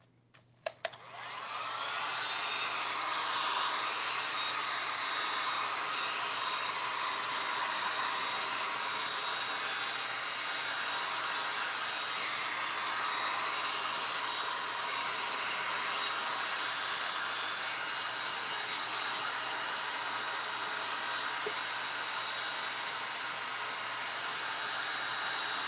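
A heat gun or hair-dryer-style blower roars steadily while warming fresco plaster to speed its drying. It starts with a few clicks, then gives a loud, constant breathy whoosh that runs unbroken for over twenty seconds.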